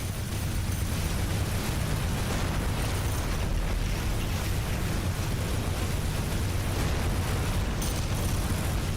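A battery structure blowing up when destroyed in the sci-fi base-building game Riftbreaker, a dense, steady roaring blast and crackling rumble that stays loud and continuous throughout.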